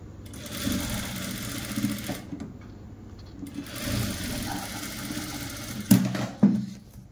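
A sewing machine stitches elastic onto palazzo pants, running in two steady whirring stretches separated by a brief pause, then a couple of short knocks, close and continuous.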